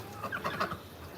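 Backyard chickens cluck in a short, close burst of several quick notes, then fade into quiet background noise.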